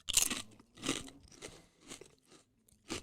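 Cheetos-style snack crunched up close, with a series of crisp bites and chews coming in roughly regular bursts over a few seconds, fairly quiet and with no talking.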